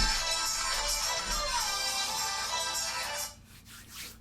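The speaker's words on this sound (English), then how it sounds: "That was my phone going off." A mobile phone ringtone going off indoors, a bright electronic melody playing for a few seconds before cutting off abruptly, followed by faint room noise.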